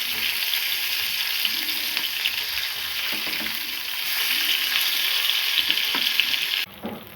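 Fish fries in a pan with a steady loud sizzle that holds for several seconds before a brief dip near the end, and there is no talking.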